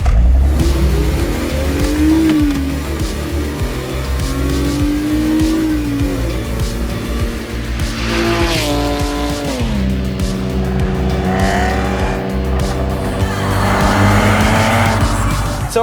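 A BMW E46 325Ci M Sport driving hard, its engine revving up and down through gear changes with rising and falling pitch, tyres squealing on the corners, loud and close throughout.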